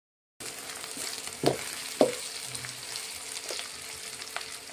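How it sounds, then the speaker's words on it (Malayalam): Curry leaves drop into hot oil for a bone curry and sizzle steadily, with a couple of sharp crackling bursts and stirring sounds, close and without talk. "അതിൻ്റെ കൂടെ അങ്ങ് കരിവേപ്പില ഇടാം"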